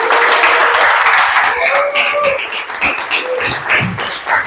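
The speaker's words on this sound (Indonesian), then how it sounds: "Tepuk tangan untuk Rizky." A classroom full of people clapping steadily and loudly, with voices and cheers mixed into the applause.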